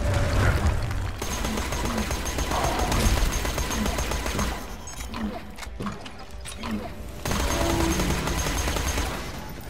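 Gunfire in the video game Borderlands 2, a dense, steady stream of rapid shots running loud throughout, with game sounds and effects layered in and no voices.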